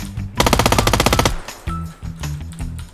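A JS9 9mm submachine gun firing in PUBG Mobile, a loud rapid burst of about a second, followed by a few scattered single shots and game sounds.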